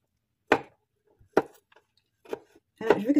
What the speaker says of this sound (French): Ma noix de coco je vais découper en film